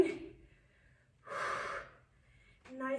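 Heavy breathing from someone exerting through an at-home full-body HIIT workout, with a sharp gasp at the start, a loud drawn-out exhale in the middle and another breath at the end, close to the mic.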